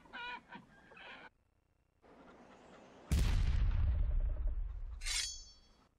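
A cartoon chicken in the Blu-ray video game Liar's Dice clucks in short bursts, followed by a loud crash and a bright shattering ring that fades out.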